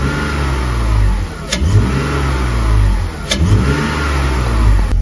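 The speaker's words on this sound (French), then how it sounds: "now I can show you the sound about the air filters" BMW E30 330i engine fitted with new air filters, revved repeatedly in close, loud surges that rise and fall, with a couple of sharp pops between revs and no voices.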